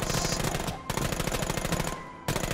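Rapid automatic gunfire from the VR shooter The American Dream, loud and close, a dense continuous burst of shots with two short pauses.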